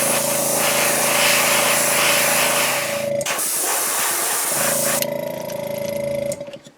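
An airbrush sprays white paint onto a jerkbait fishing lure in a loud steady hiss with a compressor hum, cutting out briefly midway, then resuming before tapering off.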